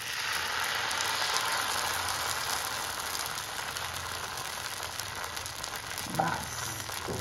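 Dosa batter sizzles steadily on a hot pan, a dense crackling hiss that continues evenly throughout with a small clink near the end.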